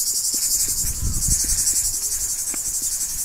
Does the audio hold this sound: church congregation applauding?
no